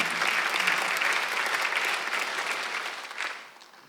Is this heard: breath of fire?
no